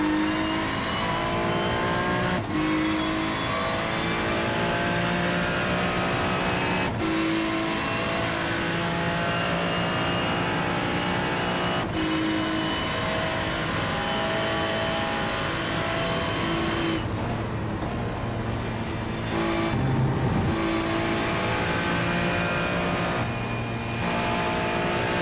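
Race car engines roaring in iRacing at the Le Mans 24h, a steady loud drone with repeated rising and falling revs and gear changes over about twenty-five seconds, with no talking.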